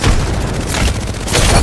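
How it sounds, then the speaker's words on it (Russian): A loud, close explosion from a thrown frag grenade in Apex Legends, a dense booming burst of noise that swells twice over under two seconds, with no talk. "Кидаю осколочную"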